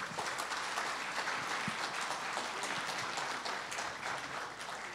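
Audience applause opens the 15th Dongmyeong Award ceremony: a dense, sustained wash of many hands clapping in a hall, steady and continuous throughout.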